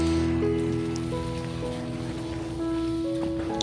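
Ginger and garlic sizzle steadily in hot oil, a continuous crackling fry that runs throughout without pause.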